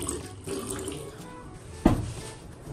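Tap water runs steadily into a sink while something is being washed, with a brief clink partway through. It is heard up close against low room noise.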